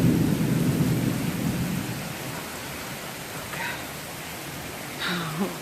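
Thunder rolls low and heavy during a rainstorm in Maryland, a deep rumble over steady rain noise that fades into a broad wash with a couple of faint higher sounds near the end.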